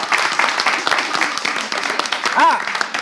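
An audience claps after a short game at an entertainment event, a steady wash of applause under a voice and light cheering throughout.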